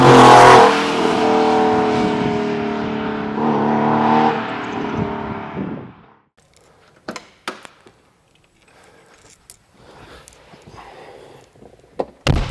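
Classic Porsche 911 engine, 1970s–80s style, revs loudly with a crisp, throaty roar for several seconds, then cuts off, leaving quiet with a few sharp clicks and knocks.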